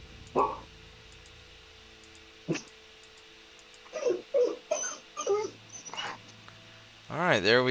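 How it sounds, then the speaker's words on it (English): A dog whimpers and yips for attention in a few short, high, wavering bursts, the last one a longer rising-and-falling whine, with quiet stretches and soft background sound between them. "Sounds like Tiny Dog is wanting some attention there. No, that's not Tiny Dog. That's JP's dog"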